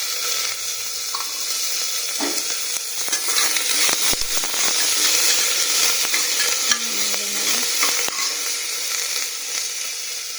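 Half a teaspoon of cumin seeds crackling and sizzling in a little hot oil for vegetarian khichuri, a loud, dense, continuous fry close to the pan with occasional stirring clatter and no voices.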